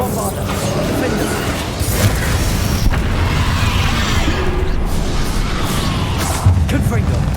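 A Bombarda explosion spell in Hogwarts Legacy goes off amid loud game combat, with booming blasts and crashing impacts over dense mechanical background noise, and a voice calls out briefly.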